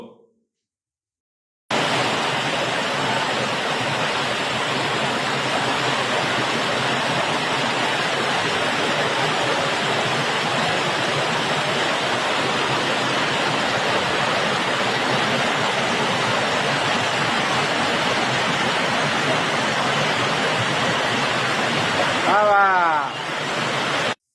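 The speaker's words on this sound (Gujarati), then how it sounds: "જૂનાગઢના ગિરનારની સીડીઓ પર વહેલા પાણીનો મજેદાર વિડીયો વાયરલ થયો છે" Rainwater rushes down the stone stairs of Girnar in Junagadh during a downpour, a loud, continuous roaring wash that runs unbroken for about twenty seconds and ends abruptly.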